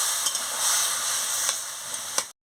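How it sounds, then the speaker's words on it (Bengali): Spices with cabbage, sweet potato and brinjal sizzling and frying in a pan for a Bengali chorchori, a steady close sizzle with a few brief clinks of stirring. "দিয়ে ভালো করে মশলাটাকে কষিয়ে নিচ্ছি"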